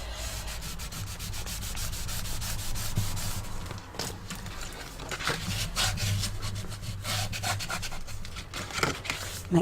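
Paper being burnished down onto a Halloween scrapbook album page, a continuous close rubbing and scraping with steady strokes and a few sharper scuffs.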